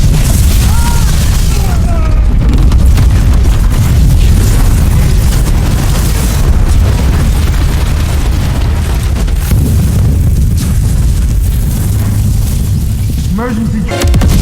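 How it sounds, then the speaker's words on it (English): A bomb blast tears through the bridge of a starship in Section 31, a sustained, loud roaring boom with rumbling debris that fills the whole stretch. "this bomb completely devastates the entire bridge of the ship, as we see in the explosion"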